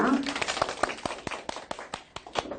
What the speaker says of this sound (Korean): 박수로 시작해보죠.